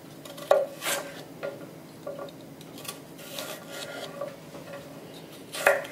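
Knife slicing celery on a cutting board while making homemade potato salad, scattered crisp cuts and soft taps of the blade against the board, fairly close and moderately quiet, with louder snaps near the start and the end.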